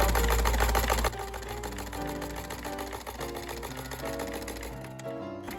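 Sewing machine stitching quilt fabric strips, a rapid mechanical rattling hum that runs loudly for about a second, then continues in a lighter, steady chatter before slowing and stopping near the end.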